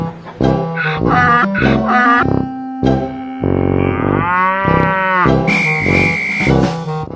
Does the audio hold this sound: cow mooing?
yes